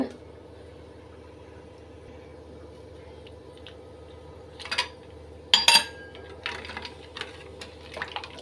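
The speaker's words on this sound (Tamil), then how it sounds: "ஒரு 4-5 ஐஸ் க்யூப் சேர்த்துக்கலாங்க." Four or five ice cubes drop into a pot of almond gum kheer, giving a few sharp clinks and clatters after a quiet stretch of low kitchen background hum.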